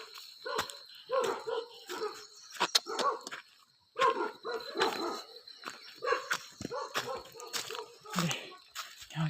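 Several dogs bark repeatedly in a jungle, sharp overlapping barks and yips in bursts at moderate distance, with some people talking softly in between.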